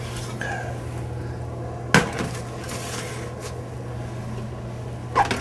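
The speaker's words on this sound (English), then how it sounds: "So let's go in this oven and bring out one that's ready." A ready roast comes out of the oven: a sharp metallic clank of the oven or tray, then a later clatter, all over a steady low appliance hum.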